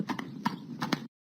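Horse hooves clip-clop in a brisk uneven rhythm, about six close, crisp knocks over a second before cutting off abruptly.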